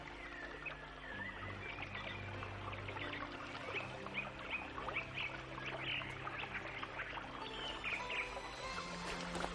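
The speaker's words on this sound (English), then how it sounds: "All of the birds in the area are coming to your rescue." A flock of birds in an animated Cinderella episode chirp and call in quick, overlapping bursts against a busy background, with no talk.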